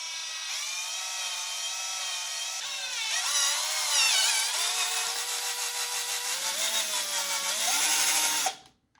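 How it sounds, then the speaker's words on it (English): A power drill with a 2564 bit bores slowly straight through a part for a Hasbro wand hatlight, its steady high whine rising and wavering in pitch for about eight seconds, close and loud, then cutting off. "2564 drill bit, we're just gonna go straight through."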